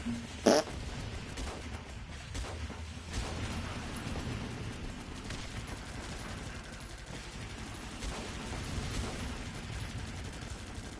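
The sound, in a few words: fart cushion in a video game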